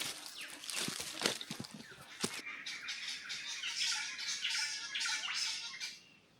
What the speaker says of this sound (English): I have no idea what kind of bird that is.